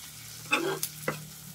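Chopped onion frying in oil in a wok for khichuri, giving a faint steady sizzle with two brief stirring scrapes, close by and without talk.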